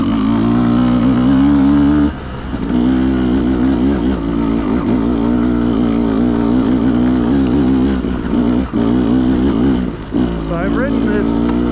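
Beta 200RR dirt bike engine revving and pulling through the gears while riding in the desert, loud and continuous with brief dips around shifts, under people talking over it.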